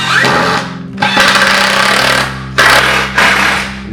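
Power driver sinking screws to fasten a wooden frame to its backrest, loud whirring bursts with brief pauses between them, about three runs close by.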